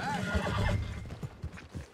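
A horse at the stables in Red Dead Redemption 2 gives a high, wavering whinny right at the start, followed by softer snorts and hoof thumps, close by and fading.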